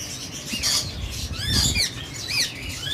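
A female Eclectus parrot gives several sharp, rising squawks in quick succession, loud and close, with faint rustling between calls.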